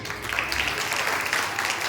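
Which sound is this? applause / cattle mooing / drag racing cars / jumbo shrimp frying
applause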